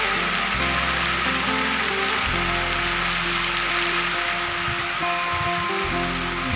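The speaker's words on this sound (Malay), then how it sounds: "lagi hujan deras." Heavy rain pours down in a remote inland forest during a downpour with strong wind, a steady dense hiss of drops on surfaces filling the whole stretch with low rumbling underneath.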